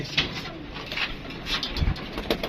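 Racing pigeons at a sale in Lahore coo softly in low, repeated murmurs, with faint background movement and no clear talk.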